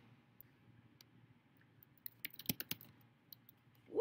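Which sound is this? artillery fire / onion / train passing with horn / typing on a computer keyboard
typing on a computer keyboard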